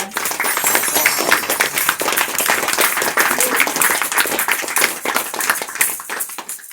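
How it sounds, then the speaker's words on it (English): A warm round of applause greets a guest of honor at an evening talk, many hands clapping in a dense, sustained burst of sharp individual claps that runs throughout, close and loud with no talking over it. "let's have a warm round of applause for our guest of honor"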